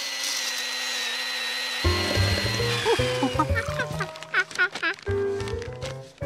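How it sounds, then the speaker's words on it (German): A chainsaw-like power tool whines and buzzes in a cartoon, starting with a steady high tone and then breaking into choppy, revving bursts and rattles, loud and close. "Kam das Kettensägengeräusch vielleicht aus dem Kaufhaus?"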